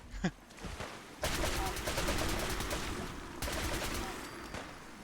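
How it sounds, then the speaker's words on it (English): An explosive radium rifle fires in Fallout 4, rapid cracking shots in two dense bursts separated by a short gap, loud and harsh with an echoing blast tail. "so this is our new explosive radium rifle"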